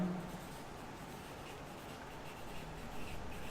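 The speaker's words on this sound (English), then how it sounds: "let's write it in here so it fits" Pen or marker writing on paper to fill in a pyramid diagram, a soft steady scratching and rubbing that stays faint and close throughout, with no talking.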